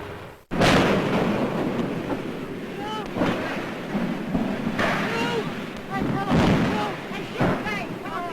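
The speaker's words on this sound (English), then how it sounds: "you're about to see the pictures he got when the ship exploded" The Hindenburg airship exploding and crashing in flames, a loud, roaring, rumbling mass of noise that bursts in abruptly and rolls on with surging swells, heard with excited voices mixed in.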